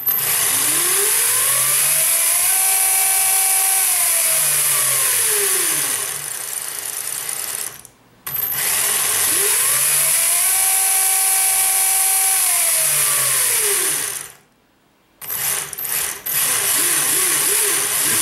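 An RC car's electric motor driven through its ESC by a servo tester whines as it winds up and down in two long sweeps, each cut off by a brief silence, with a mechanical rattle underneath.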